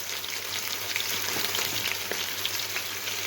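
Chicken frying in a pan for a gobhi chicken dish, a steady close hiss of sizzling oil with faint scattered pops throughout, no voices.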